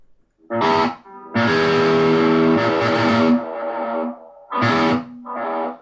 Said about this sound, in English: Play around with the echo here.